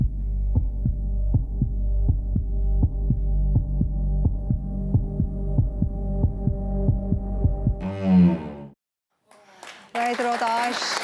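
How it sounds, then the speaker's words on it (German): A contestant's heartbeat is played during a Swiss cooking competition final: a steady, deep rhythmic thumping with a low hum for about eight seconds, then it stops and voices speak. "Und jetzt hören wir den Herzschlag"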